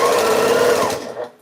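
A sewing machine stitches star quilt blocks in a steady, loud, continuous close-up whir that slows and fades out near the end.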